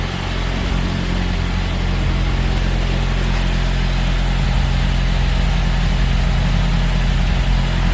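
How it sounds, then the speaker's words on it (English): A Saab 9-5 idles with a loud, throaty exhaust from a rear silencer box that has lost its internal packing, a steady close rumble with no talking. "this car spit out all the insulation inside this back box, so it sounds a little bit louder now than it did before"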